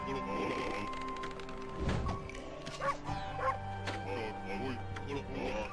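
A dog yips and barks in the video game Okami, with short sharp calls amid game music and sound effects while a person talks over them.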